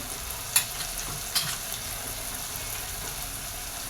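Spices for Marwari-style khichdi sautéing in a pan, a steady close sizzle with a couple of sharp spatula clinks early on, no voices.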